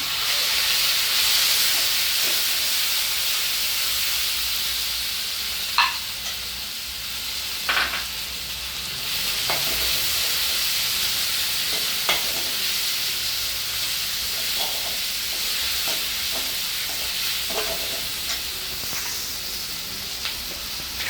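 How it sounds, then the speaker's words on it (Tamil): Grated ginger sautéing in a pan with chilli, curry leaves and asafoetida gives a loud, continuous sizzling hiss, with occasional spoon clicks and stirring scrapes and no voices. "இஞ்சியை துருவி இஞ்சி நல்லா இதில் வதக்கிக்கிறோம்"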